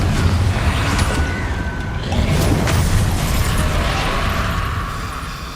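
A Confringo fire spell blasts in Hogwarts Legacy with loud, crackling bursts and a whooshing rush of fire layered over continuous game ambience, peaking around the middle before tapering off.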